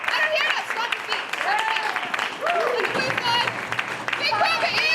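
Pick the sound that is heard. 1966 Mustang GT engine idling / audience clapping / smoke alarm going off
audience clapping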